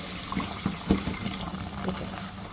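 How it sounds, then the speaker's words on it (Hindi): Milk poured into a pan of golden caramelized sugar, a soft steady liquid rush with bubbling and a few small clinks, close by, no voices. "अब हम क्या करेंगे कि हम इसके अंदर डालेंगे दूध"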